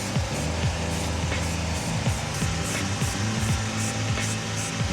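Steady, loud hissing spray from a paint gun coating a tilt trailer black, running continuously over a droning compressor or engine hum with repeated low pitch sweeps.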